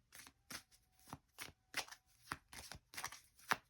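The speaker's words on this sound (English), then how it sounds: "I don't know why I'm shuffling those cards." Tarot cards are shuffled and riffled in quick repeated bursts, about a dozen crisp flutters close by, with no voices.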